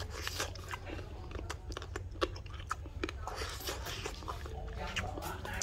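Someone chews rat meat with the bones still in, giving close, loud crunches and bites in an irregular rhythm over a low background rumble.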